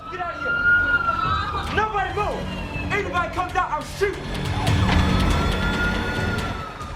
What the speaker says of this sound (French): ils entendaient les sirènes.